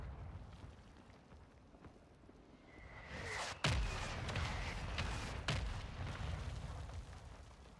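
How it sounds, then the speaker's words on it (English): Mortar rounds from a Call of Duty: Warzone 2 mortar strike land in a short burst, with a whistle followed by several sharp blasts and crackling over steady background rumble. "Our mortar strike is inbound."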